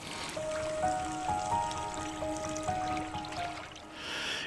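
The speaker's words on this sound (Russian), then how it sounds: "залили грибной водой." Mushroom water is poured into a pan of stew with beaten zrazy, mushrooms and eggs, giving a steady soft trickle and splash under quiet background music.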